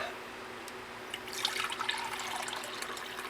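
Liquid poured out of a container during a comic book conservation job: after a quiet start, close trickling and splashing swells up about halfway through and keeps running with small drips.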